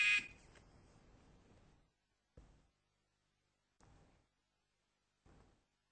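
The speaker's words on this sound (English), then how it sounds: "we'll start at the sound of the buzzer" A game buzzer sounds at the start of a timed round in a grammar quiz: one loud, bright burst up front that fades over about two seconds, then three faint short knocks in a quiet room.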